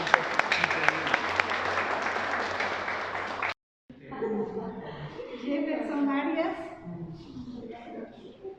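Audience applause at a community communicators' gathering during the pandemic, a dense burst of clapping that runs for about three and a half seconds, cuts off abruptly, and then gives way to a person talking.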